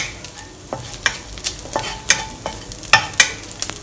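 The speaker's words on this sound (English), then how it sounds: "frying them over a little bit of oil." Dried shrimps sizzle in a small amount of oil in a pan while being stirred, giving a soft steady crackle broken by repeated sharp scraping clicks of the utensil, close and moderately loud.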